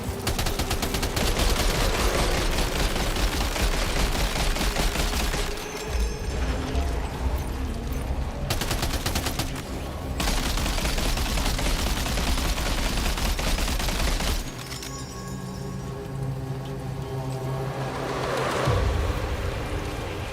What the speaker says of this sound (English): Using an MG to take out baby BT.